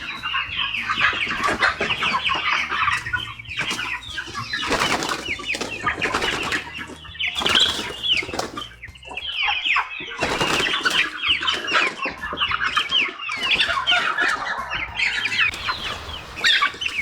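A flock of meat chickens clucks and squawks continuously, with bursts of wing flapping mixed in, busy and close throughout.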